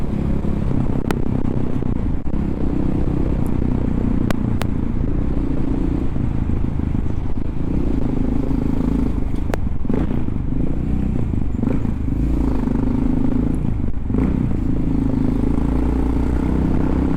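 A Honda XR motorcycle rides along with a steady, continuous engine drone, rumbling close and fairly loud throughout with occasional faint clicks and rattles on top.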